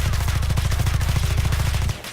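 Rapid, evenly spaced gunshots from a weapon in Electric State: DarkRP, a steady fast automatic rhythm, loud and close, stopping abruptly near the end.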